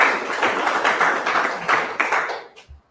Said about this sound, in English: Maybe you can hear the claps here.